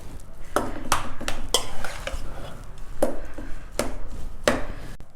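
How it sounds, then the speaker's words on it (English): Cooked rice and dal are mashed and mixed with salt in a pot, giving repeated close scraping and tapping strikes of a utensil against the vessel in an uneven rhythm. "first mash the rice and dal well. Next, add some salt to it and mix it together again."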